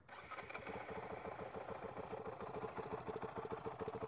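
A Honda 450L motorcycle engine, already warmed up, cranks and fires, then settles into a steady rapid-pulsing idle. It is heard fairly close and alone, with no talking.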